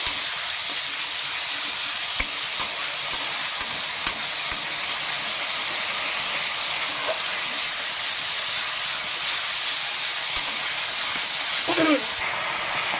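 Spice masala sizzles steadily as it is sautéed in a pan for a potato and greens stalk dish, a continuous frying hiss with occasional soft stirring clicks.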